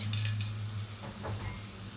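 Tomato slices and green chilies fry in a pan of fish curry, giving a steady close sizzle with soft stirring scrapes, alone without talk.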